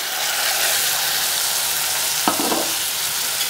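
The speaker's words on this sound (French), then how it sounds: "Donc le vin a réduit, je vous invite à ajouter le fond de veau" Veal stock with meat trimmings is poured into reduced wine in a hot pan for a bordelaise sauce, a strong steady sizzle with a brief sharper burst and stirring as the liquid hits.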